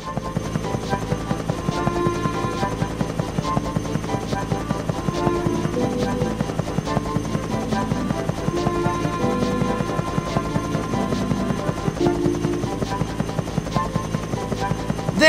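A biplane's engine drones steadily and loudly in a Thomas & Friends video game, a continuous buzzing hum that stays close throughout without pause.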